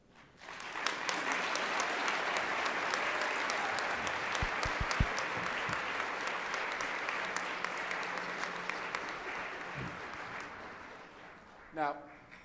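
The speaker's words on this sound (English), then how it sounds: "please join me in giving a warm ERN applause for their service" Conference audience in a plenary session claps warmly and continuously for around eleven seconds, a sustained mass of hand claps at moderate level that thins toward the end, followed by a brief nearby voice.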